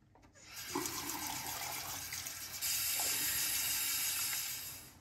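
Tap water running into a sink for rinsing after a straight razor shave, a close, steady gushing splash that starts abruptly and swells louder halfway through, no voices.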